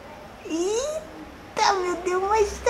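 A cat meows in two drawn-out rising and falling calls, the second louder and more insistent, close by with soft background noise.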